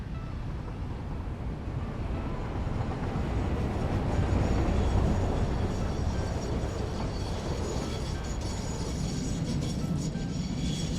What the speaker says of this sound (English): Let's watch my train come in.